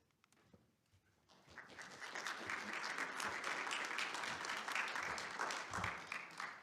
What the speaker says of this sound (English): See, they're all clapping for me, Mike.